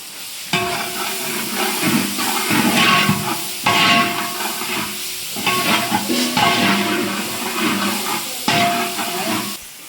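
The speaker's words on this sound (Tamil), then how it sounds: "இஞ்சி பூண்டு பேசி சேர்க்குறேன்" Ginger garlic paste frying in hot oil for a mealmaker koottu, a loud close sizzle that swells in bursts as the pan is stirred, with steady hissing between the stirs and no voices.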